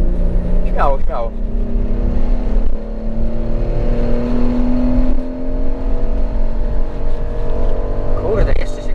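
Porsche Cayenne 3.2 (250 hp) VR engine revving under hard throttle, a loud rising mechanical whine and drone that builds and holds, with people talking over it inside the car.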